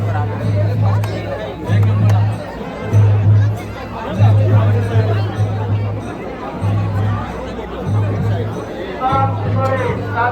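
Dense crowd chatter fills a packed gathering in Veer, loud overlapping voices all around with nearby talk, over a recurring low droning hum that pulses on and off.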